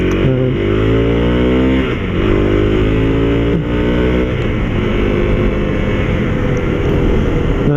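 A Honda CRF250L motorcycle, still being run in, accelerates while ridden, its single-cylinder engine loud and close, pitch climbing through repeated gear changes in steady sweeps.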